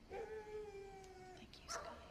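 Dogs give a drawn-out howling whine followed by a short yelp, heard faintly over low background noise.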